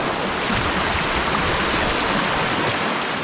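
River current rushing steadily and loud over rocks on the Aguanish, a continuous broadband wash with no pauses, heard up close while boats are walked upstream.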